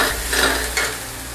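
Spices fry in hot oil for an Assamese bottle gourd curry, giving a close, steady sizzle with light stirring scrapes, no voices.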